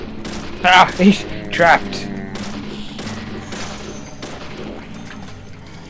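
Gunfire in the Deadly Premonition video game: a few loud, sharp shots in quick succession near the start, fading into a murky in-game background, with someone talking over and between them.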